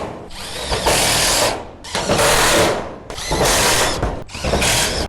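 A power drill drives screws into the ridge cap of an Absco steel garage shed roof, running in four loud, close bursts of whirring with brief pauses between them, and no voices.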